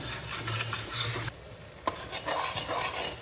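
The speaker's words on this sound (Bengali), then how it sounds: "মশলাগুলোকে খুব ভালোভাবে মিশিয়ে নেব এবং তেল ছাড়া অবধি কষতে থাকবো" Spices with Kashmiri chili powder fry in oil while being stirred, a close sizzling hiss broken by scraping spatula strokes and a brief lull before the frying noise returns.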